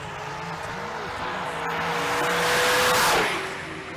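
Camaro drag racing down the left lane at a big drag-and-drive event, a loud roaring engine that rises to a peak as it passes close, with a whine sweeping upward before the sound fades.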